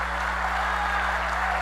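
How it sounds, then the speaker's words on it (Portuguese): Church congregation clapping during a sermon, a brief, dense burst of steady applause over a constant low hum. "Aplauda o Senhor"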